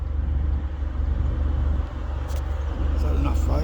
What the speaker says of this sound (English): Big John Deere combine.